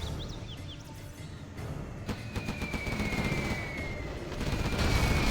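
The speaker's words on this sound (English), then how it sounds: "Very nice carpet bomb." Carpet-bomb explosions hit in a real-time strategy match between China and nuke factions on the Arctic Lagoon map, making dense rolling booms and crackling bursts that build in intensity beneath a thin whining tone.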